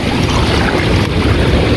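Strong ocean waves roll in near an estuary mouth, heard from a small boat as a loud, dense wash of surf and water mixed with heavy wind buffeting.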